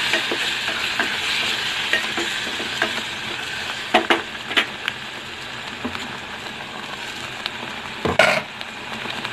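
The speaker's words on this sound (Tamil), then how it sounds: "இப்போ வந்து நம்ம இந்த கிரேவியை ஊற்றிக்கலாங்க." Ground gravy poured into a hot pan and stirred for a brinjal and chana dal curry, a steady sizzling hiss with a few soft scrapes and clinks of a spoon, close and continuous.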